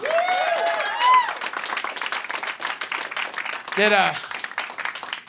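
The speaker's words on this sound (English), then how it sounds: "Give yourself a round of applause for coming out." Comedy club audience applause mixed with cheering and whoops, steady dense clapping across the clip with voices calling out over it, one louder shout near the end.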